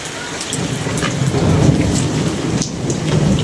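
Heavy rain during a thunderstorm, a dense close hiss of downpour with low rolling thunder swelling underneath and a few sharper cracks, continuous throughout.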